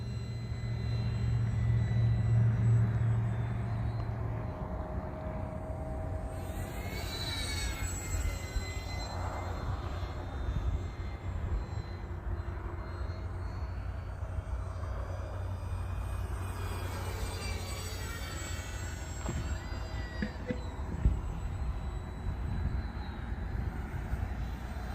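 An Arrows RC Bearcat model airplane flies overhead on a 4S battery, its electric motor whining steadily with rising and falling Doppler-shifted sweeps as it passes, alongside a low hum near the start.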